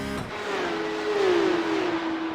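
Porsche Cup race car at Watkins Glen downshifting, its engine note loud and close, dropping steadily in pitch as it slows, with constant engine roar throughout and no talk.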